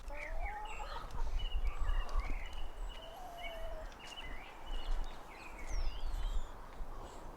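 Several chickens cluck and squawk on and off over a low rumbling background, some calls close and others farther off.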